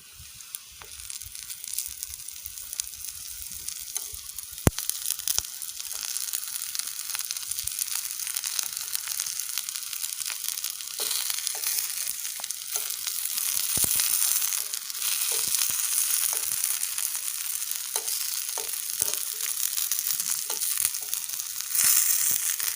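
Brinjal slices fry on a hot tava with a continuous close sizzle, speckled with sharp crackles and pops, and no voices.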